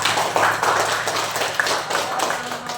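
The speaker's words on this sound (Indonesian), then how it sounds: "beri tepuk tangan" Students in a classroom clap for a group after a biology presentation, a few seconds of moderate, somewhat uneven close-up clapping with some taps mixed in.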